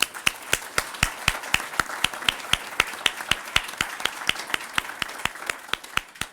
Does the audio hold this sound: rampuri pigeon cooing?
no